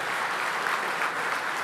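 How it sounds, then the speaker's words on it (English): Steady, dense applause from a luncheon audience at a cancer foundation's anniversary celebration, a continuous wash of many hands clapping at even loudness with no voices standing out. "Yeah, it's worth applauding."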